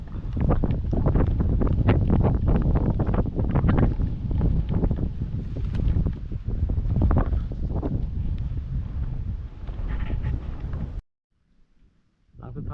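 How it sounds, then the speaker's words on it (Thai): Wind and rain sweep over a fishing spot at rising water, a loud, dense rushing roar with gusty swells that cuts out abruptly near the end before a brief return. "ฝนทั้งลมครับ"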